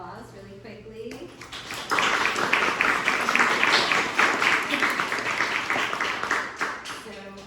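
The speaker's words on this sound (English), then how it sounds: "So a little round of applause really quickly." A gallery talk audience breaks into applause, with a brief voice before it and then a burst of many hands clapping that fills the room and tapers off toward the end.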